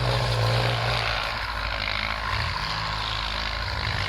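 A Ford 6610 tractor plowing an upland farm field, its engine a steady, loud, low drone that runs continuously and alone, with a slight dip in level early on.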